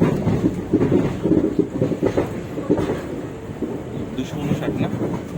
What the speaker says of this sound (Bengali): আমাদের ট্রেন এখন আজিমগঞ্জ জংশনে ঢুকছে।